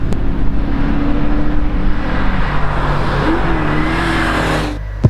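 A loud, bright yellow race car at a hillclimb event accelerates hard, its engine roaring steadily with rising revs and a gear change partway, close and dominant throughout before cutting off sharply at the end.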